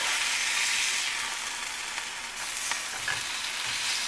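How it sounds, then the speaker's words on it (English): Burgers fry in a pan, giving a dense, steady hiss and crackle of sizzling fat, close and continuous with no talk. "Now I'm cooking these burgers medium well, just because that's the way I like them."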